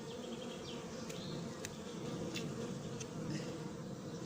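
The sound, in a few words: honeybees buzzing during beekeeping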